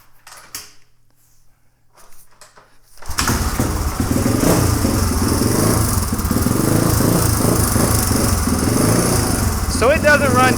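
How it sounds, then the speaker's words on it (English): Warmed-up dirt bike engine idles loud and close after quiet rustling, settling into a steady, slightly uneven running note that persists to the end. "listen to the idle. it will fluctuate."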